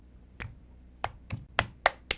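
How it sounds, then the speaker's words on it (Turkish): A person claps their hands several times in a loose, uneven rhythm, about six sharp, close claps separated by short pauses over a quiet background. "Kendimi alkışlıyorum."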